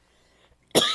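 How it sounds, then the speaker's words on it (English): After near silence, a single short, sharp cough bursts out close by, loud and abrupt at the very end. "And I'm going to cough."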